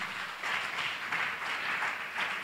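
A church congregation at a Sunday service claps, a soft, steady patter of many hands with a few swells, fairly distant and continuous throughout.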